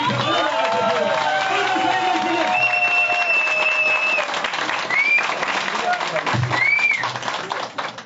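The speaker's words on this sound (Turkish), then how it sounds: "AK Parti Sinop Milletvekilimiz Sayın Doktor Nazım Maviş'i alkışlarla" A crowd at an AK Parti election rally in Gerze, Sinop, applauds to welcome a member of parliament. The clapping is loud and sustained throughout, with scattered whistles cutting through.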